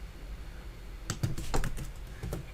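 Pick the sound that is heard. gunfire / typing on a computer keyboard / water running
typing on a computer keyboard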